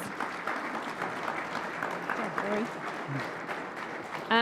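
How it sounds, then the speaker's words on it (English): An audience at a panel discussion claps steadily in a dense wash of applause, with a voice briefly heard near the end. "So, Well, let's give our panelist and Joey one more round of applause."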